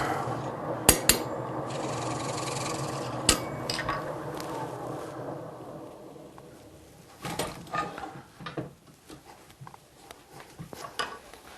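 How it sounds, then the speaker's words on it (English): Faint rasping and rubbing of a hand drill boring a center hole into wood, with occasional sharp taps and knocks, quieter and more irregular toward the end. "Going to drill a center hole roughly to the depth I want."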